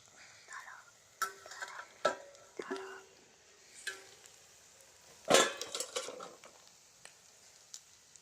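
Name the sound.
stirring chicken fry with green chilli sauce in a pan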